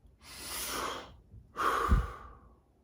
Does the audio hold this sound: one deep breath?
yes